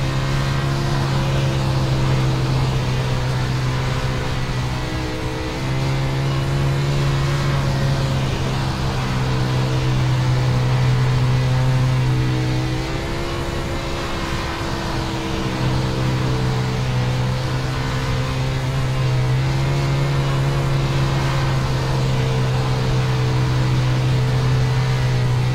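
A 410 sprint car engine drones steadily as the car pushes off at Eldora in the iRacing game, a loud continuous roar with slight pitch wavering throughout, no voices.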